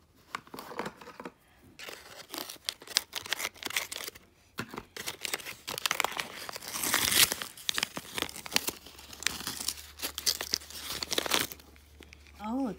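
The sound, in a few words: cutting and tearing open toy packaging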